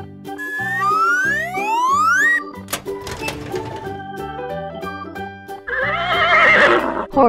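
A cartoon horse gives a bright, loud whinny, preceded by rising whistle-like cartoon effects and bouncy musical sounds.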